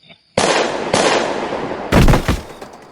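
Gunfire aimed at vampires in a cartoon, with several loud sharp bursts of shots in quick succession, a long blast followed by a second heavier volley close up.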